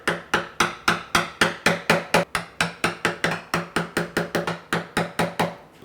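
A chisel knocked by a mallet chips waste from a half-blind dovetail socket in a wooden cabinet piece, about twenty-five sharp, evenly spaced close strikes with no talking.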